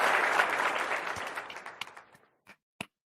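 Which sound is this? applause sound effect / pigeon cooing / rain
applause sound effect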